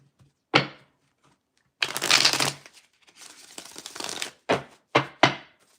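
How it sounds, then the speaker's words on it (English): Tarot cards being shuffled close up: a quick riffle, a longer flurry of papery flicking, then several short snappy riffles in succession. "One more shuffle."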